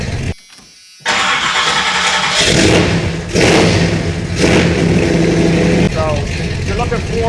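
A 1986 Chevy Suburban C20 with a 454 big-block V8 cranks briefly on a new high-torque mini starter, then fires and settles into a loud, rumbling idle with a few revs, recorded close by.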